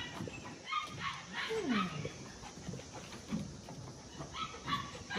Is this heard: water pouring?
no